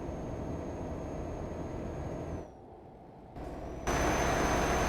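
A Renault T truck engine drones steadily as the truck climbs a hill. The drone drops away briefly midway, then returns louder and fuller, with a faint high whine running above it.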